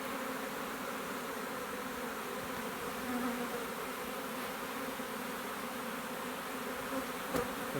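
A honey bee swarm gathers on the outside of a hive box, with bees marching inside toward the queen. A steady, moderate buzzing hum fills the whole clip evenly with no voices, and one brief click comes near the end.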